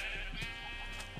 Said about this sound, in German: Du könntest mal das schwarze Schaf hier rein schmeißen.